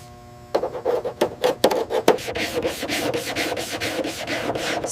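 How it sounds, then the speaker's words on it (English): Sanding a body panel of a 1989 Batmobile (Anton Furst design) during restoration, a close, rough rubbing with quick rhythmic back-and-forth strokes that settles into a steady grinding rasp. "Sanding reveals the true shape beneath decades of neglect."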